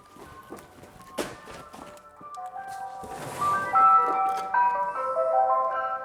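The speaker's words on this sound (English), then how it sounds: "Is that an ice cream man?" An ice cream van plays its chiming jingle outdoors, the tinkling melody rising after a few thuds and footsteps and growing louder and closer, with no talking.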